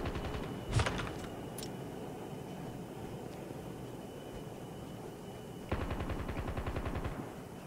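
Gunfire in the mobile battle royale game Call of Duty Mobile: a short burst early on, then a longer rapid automatic volley near the end, moderately loud over quiet game ambience.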